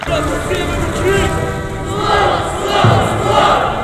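More than two thousand mourners in Sumy at a soldier's funeral procession, a loud, close crowd applauding and raising patriotic shouts, voices swelling and overlapping with a thud near the end.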